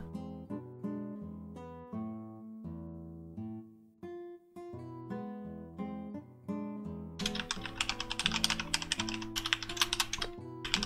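Someone types fast on a computer keyboard while building a webpage. The dense, crisp clicks come in late in the clip over steady background music.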